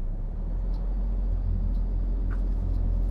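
A truck engine drones steadily under the driver's foot on the gas. The low rumble is loud and continuous, and no voices are heard.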